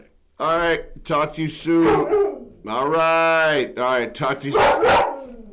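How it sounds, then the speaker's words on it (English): A dog barks and yips in a harmonic, vocal way at home, mixed with a man's loud speech, several bursts spread across the clip. "Oh, that's my dog."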